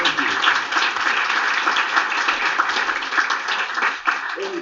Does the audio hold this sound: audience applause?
yes